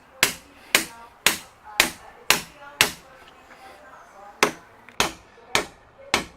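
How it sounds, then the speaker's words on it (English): Sharp, evenly spaced blows of a machete and a hammer striking, recorded at a house in Puerto Rico: about eleven loud, close impacts, each with a short ringing decay, with a brief pause midway. "It's a machete and a hammer."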